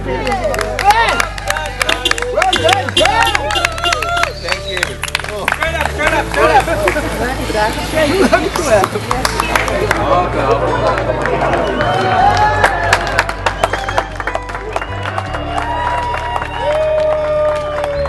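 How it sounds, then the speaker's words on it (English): Morning crowd applauding and cheering as a rider arrives at a mountain bike race finish, steady clapping under close talk with background music throughout. "Coming into a warm applause from the morning crowd."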